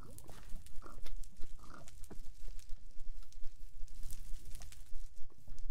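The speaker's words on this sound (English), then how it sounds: "There's lots of pigs here." Pigs in Minecraft oinking and grunting in a busy, overlapping stream of short calls, close and fairly loud, over other game noises.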